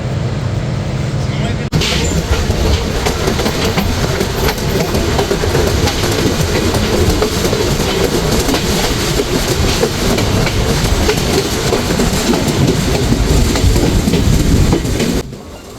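The Chilahati Express (806), running late, rolls steadily along the rails with a dense, loud rumble and rattling clatter heard from inside the carriage, continuous for about fifteen seconds before easing off at the end.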